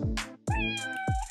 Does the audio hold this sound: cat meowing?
yes